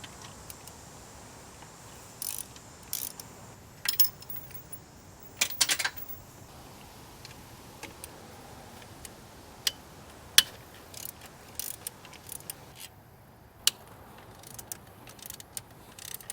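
Sharp ratchet clicks in scattered short bursts as bolts are loosened on a Subaru WRX during top mount intercooler removal, close and fairly crisp over a quiet garage background, with pauses between the bursts.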